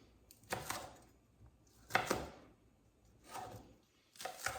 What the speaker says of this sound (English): Slice the green beans diagonally into thin strips